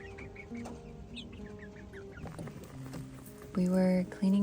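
Chickens at a mountain homestead clucking close by in short scattered bursts, with a few louder squawks near the end.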